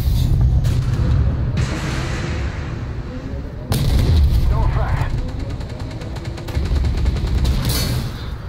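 Tank cannon fire in Armored Warfare, with heavy booming shots over a constant engine rumble and a sudden loud report partway through. Voices talk faintly in the background.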